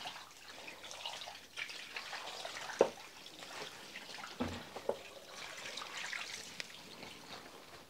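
A milking area is rinsed down with a bucket of bleach water: soft, close splashing and trickling with scattered drips and a few sharper knocks, all quiet and with no talk.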